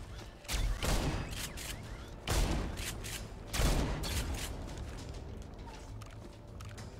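A shotgun firing at robots in Insomnia: The Ark, several separate heavy blasts spaced about a second or more apart, each followed by a decaying rumble, with scattered clanks between.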